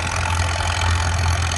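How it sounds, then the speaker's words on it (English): An old gray antique tractor runs at a plow day, its engine giving a loud, steady low rumble with a constant hum, close by and unbroken. "Some of you should recognize this tractor. There you go. Old gray feller."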